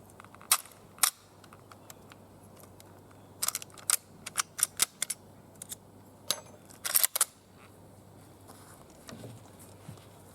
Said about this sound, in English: we're going to load up Another 5 rounds at 100 yards. Stripper clip being a little bit difficult.